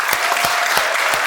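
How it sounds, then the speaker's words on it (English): Audience applause welcoming a speaker onto a conference stage at a leadership event, steady and sustained with rhythmic bursts of clapping across the whole moment, no talking. "So please give him a big round of applause."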